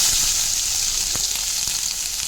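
A ground paste of onion, garlic and coconut frying in a pan with mustard seeds, cumin and red chilli powder, giving a loud, steady close-up sizzle with a few soft stirring clicks and no talk.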